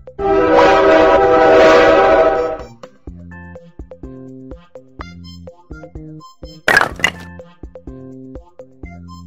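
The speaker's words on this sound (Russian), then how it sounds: "Поезд." Train horn blaring loudly for a couple of seconds, followed by the rhythmic clatter and clicking of train wheels over rail joints, then another short horn burst over the ongoing rolling clacks.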